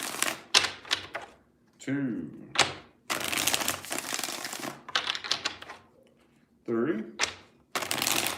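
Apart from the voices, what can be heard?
shuffling cards for a reading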